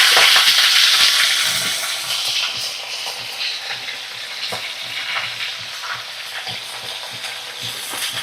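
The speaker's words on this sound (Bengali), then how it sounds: "তো ভালো করে আমি দেখো ভাজা করে নেব শিমগুলো" Sliced winter flat beans fry in about four spoons of mustard oil in a wok, a loud hissing sizzle that fades slightly and settles while a spatula stirs and scrapes in irregular strokes.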